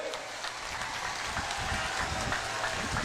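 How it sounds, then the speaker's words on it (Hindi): A large crowd at an Assam election rally in Goalpara claps for two candidates, giving sustained dense applause that sounds steady and moderately distant, with no talking over it. "जरा जोर से ताली बजाओ दोनों के लिए"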